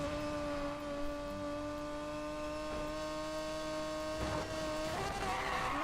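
An Aston Martin Vulcan races in Need for Speed Payback, its engine holding a steady high-pitched whine with strong harmonics, rising briefly near the end amid tire skids; loud and continuous, with no talk.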